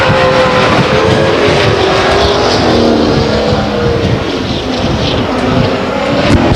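Race car engine of the number 21 car at Stockton 99 Speedway in an SRL event, a loud sustained roar lasting several seconds with steady droning pitch and no talking.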